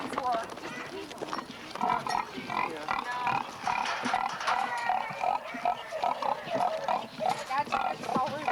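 A pig being kept for breeding grunts and roots in a farm pen, with repeated mid-range snuffling grunts close by, steady and fairly loud, mingled with voices talking throughout.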